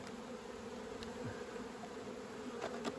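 Honey bees buzzing steadily around an open beehive entrance during hive work, a low continuous drone with faint passing buzzes, no talking.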